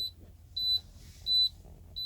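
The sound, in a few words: truck beeping, lights left on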